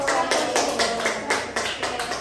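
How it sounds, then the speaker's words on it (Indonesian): A small classroom group claps in a quick, loose burst of applause, steady and fairly close, filling the whole moment. "Tepuk tangan dulu."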